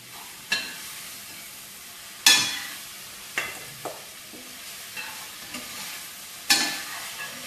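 Jackfruit frying in a pan is stirred, with a steady sizzle broken by about six sharp scraping stir strokes at uneven intervals, close and fairly loud, with no talking.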